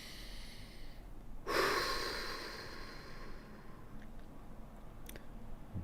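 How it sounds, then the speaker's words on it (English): A single deep nasal inhale during a meditation exercise starts sharply and loud, then tapers off slowly into quiet room tone, with a few faint clicks afterward. "Focus on the breathing in and what you're imagining, what you're feeling it's coming in"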